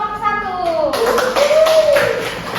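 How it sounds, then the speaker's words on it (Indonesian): Classroom students clapping for a presenting group, brisk rapid hand claps close by, with a voice talking over them partway through. "Beri tepuk tangan untuk kelompok"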